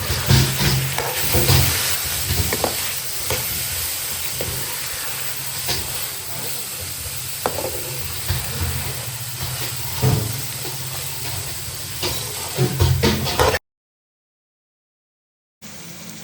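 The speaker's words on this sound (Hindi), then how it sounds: "मटर भी यहाँ पे अच्छे से फ्राई हो चुके हैं।" Green peas fry in a pan for Chinese-style rice, giving a continuous loud sizzle and hiss with occasional stirring knocks, ending in a brief silence.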